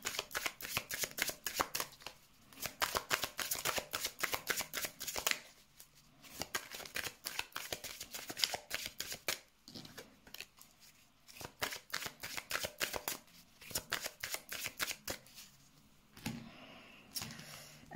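Tarot cards shuffled for a reading, repeated crisp riffling bursts with short pauses between, close and fairly quiet, no voice.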